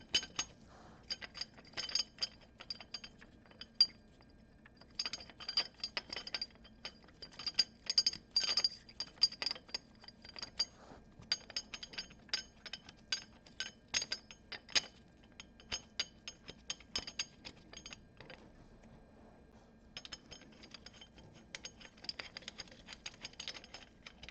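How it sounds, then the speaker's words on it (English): Bolts on a Traxxion Dynamics engine case guard for a Honda Goldwing are turned down by hand, giving faint, irregular small metallic clicks and ticks in quick bursts with short pauses. "I'm going to finger tighten them all the way down."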